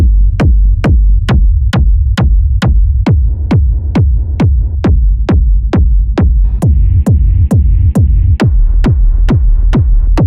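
Kick drum presets from an Ableton sampler rack pound in a steady loud pattern of about two dozen hits, with the character shifting partway as presets change, some gaining a brighter click or hiss.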